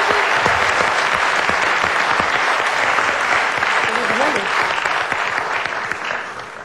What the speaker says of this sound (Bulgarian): Аплодисменти за нея, да.